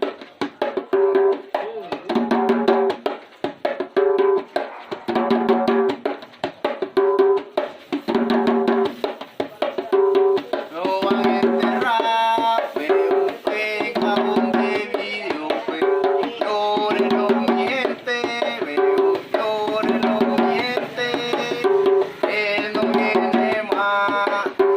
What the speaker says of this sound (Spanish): El bullerengue es una danza que bailaban o bailan en los velorios